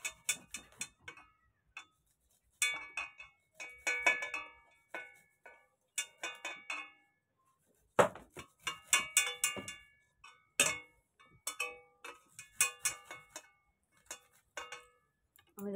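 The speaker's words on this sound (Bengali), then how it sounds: "আমি রসুনগুলো পুরো ঘষে নিয়ে নিচ্ছি।" Garlic cloves rubbed firmly across a grater while preparing a fish dish, heard as close, irregular bursts of dry scraping strokes separated by short pauses, with no voices.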